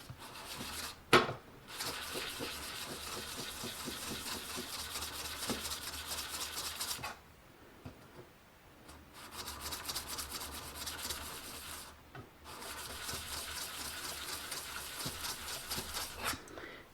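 A scraper blade's face is polished by steady back-and-forth rubbing on an abrasive, close and continuous in long strokes, broken by two brief pauses and a sharp knock early on.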